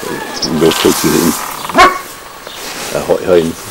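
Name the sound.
dog barking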